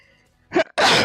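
A single close, sharp sneeze indoors, a short intake of breath followed by a loud explosive burst.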